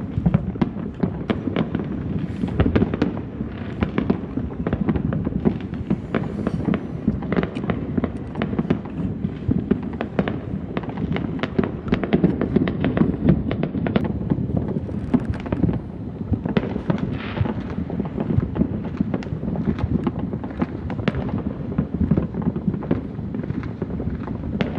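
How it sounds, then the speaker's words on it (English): Fireworks burst continuously on a 4th of July night, a dense, rolling barrage of pops and booms at a distance with no pause and no talking. "4th of July, with fireworks going off."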